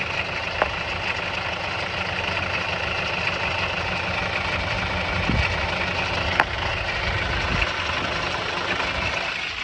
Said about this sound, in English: every now and then I can hear that noise when the engine is spinning